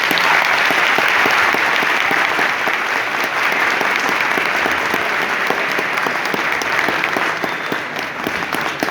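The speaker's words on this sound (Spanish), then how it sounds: "Recibimos también con un fuerte aplauso al otro ponente, John Cajas Guijarro" Audience at a debate on Marxism gives a speaker a sustained round of loud, dense applause, with many hands clapping steadily for the whole stretch and no talking over it.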